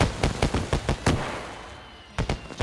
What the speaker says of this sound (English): Chris, it ruined the fireworks that were next to it